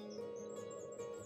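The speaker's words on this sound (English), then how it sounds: "now just relaxing, listening to all the birds" Birds chirp and tweet beside a lake, faint high calls scattered over a steady low background hum, with no voices.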